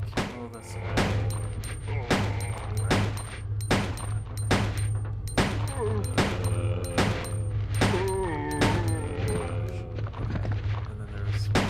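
A handgun fires at an enemy in Resident Evil 2, a run of about a dozen sharp, evenly spaced shots over a steady low game hum, with a faint high beeping tone during some of them.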